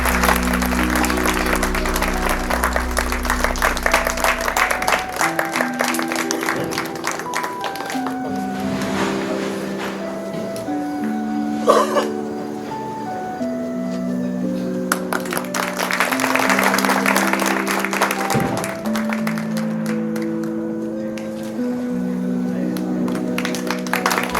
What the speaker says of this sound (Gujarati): બધા તાળીઓનો અવાજ ચાલુ રહેવો જોઈએ.